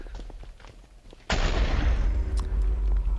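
A loud, sudden gunshot-like blast hits a Minecraft zombie-survival game and rings out into a sustained rumbling roar, following a stretch of quieter scattered clicks and thumps.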